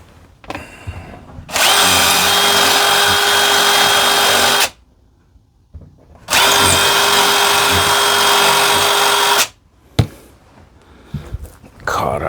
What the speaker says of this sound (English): I'm gonna ream that out just a little more.